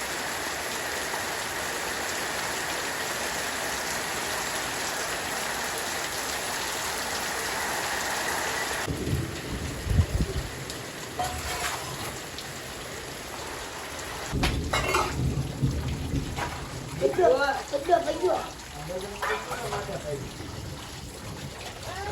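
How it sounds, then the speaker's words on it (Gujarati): Rain pours down steadily in a broad hiss, then breaks into heavier splashing and dripping bursts near the end; no clear thunder stands out, and no one speaks. "વરસાદ આવવા મળ્યો છે પાછો"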